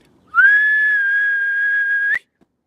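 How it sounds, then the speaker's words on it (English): A single sustained human whistle calling animals, one long steady high tone lasting nearly two seconds with a brief rise at the end, loud and close with no talk. "We speak the Canary languages of whistle, so they come when I whistle."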